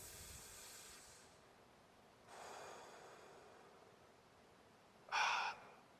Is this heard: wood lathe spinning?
no